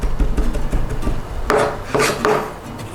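Fresh ginger and garlic being finely minced with a knife on a cutting board, giving quick close chopping taps and scraping rubs that grow busier and louder toward the end.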